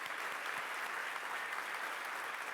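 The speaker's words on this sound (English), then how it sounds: "So a huge round of applause, please, for William Baines." Sustained applause from a large expo audience after a talk, a dense even wash of clapping heard at a distance.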